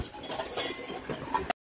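Metal cookware and utensils clink and chink in a shop selling kitchen pots, several light metallic taps scattered over a busy background hum before a sudden cutoff.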